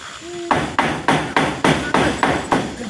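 Hammer strikes ring out during roof construction on a house, with about seven loud, evenly spaced blows close by after a brief quiet start.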